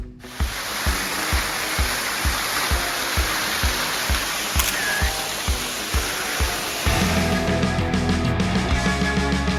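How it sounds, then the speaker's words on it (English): A small waterfall along the Hatfield McCoy off-road trail gives a steady, broad rushing wash, with regular low thumps underneath and a shift in tone partway through. "it wasn't long until we came up to another waterfall"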